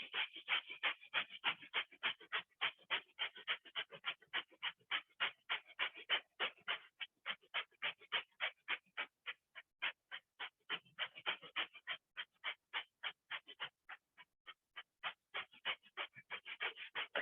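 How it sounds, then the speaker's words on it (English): Rapid, shallow breaths through the nose with the mouth closed, done as the qigong Dragon's Breath of Fire: a fast, even huffing rhythm of about three breaths per second that pauses briefly now and then. "mouth closed, in and out through the nose. This is the only time we do a shallow breath. This is called Dragon's Breath of Fire."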